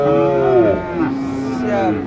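A cow, a Sahiwal heifer at the Mataji cattle market in Naogaon, gives one loud, close, drawn-out moo that rises and wavers before tailing off, standing clear above a faint hum of the market.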